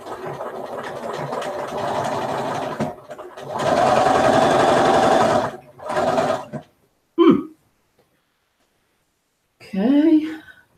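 A Bernina sewing machine stitches a quilt binding with black thread in bursts of steady motor whir, broken by short pauses, with a few brief sounds near the end.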